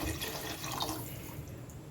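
Water streams steadily into a cooking pot while Maggi biryani is prepared, a continuous splashing pour with no talk.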